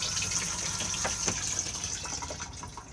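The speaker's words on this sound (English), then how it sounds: "just slide the grey lever across and then blue button to flush" A Thetford cassette toilet flushing inside a 2021 Benimar Mileo 231 motorhome, water rushing steadily into the bowl with a high pump whine and gurgling splashes, close and continuous.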